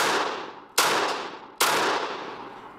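Two sharp, loud shots from an AK rifle fitted with a Vector 7.62 sport muzzle brake, each a sudden broadband crack followed by a long reverberant decay, spaced under a second apart with no talking.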